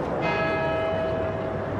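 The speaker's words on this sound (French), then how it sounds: "au Royaume-Uni, les cloches de Westminster ont retenti" Westminster church bells ring out in the United Kingdom, a loud, sustained wash of overlapping tolls with a steady ringing hum and no voices.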